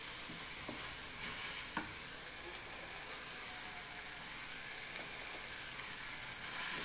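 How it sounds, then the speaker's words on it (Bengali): Mashed green beans with fresh coriander leaves get stirred in a hot pan, a quiet, even frying hiss with soft intermittent scrapes and no talk. "এক মিনিট আমি এভাবে একটু নাড়াচাড়া করে নিচ্ছি।"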